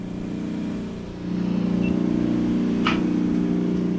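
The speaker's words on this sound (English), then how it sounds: "most of the noise you're hearing is really the rotary phase converter" A rotary phase converter hums steadily in a workshop as a Baldor buffer runs, a dense, even motor drone that grows slightly louder partway through, with a brief faint high tick.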